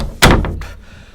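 A farmhouse door thuds shut once, a single loud close with a short trailing rattle, heard alone with no talking.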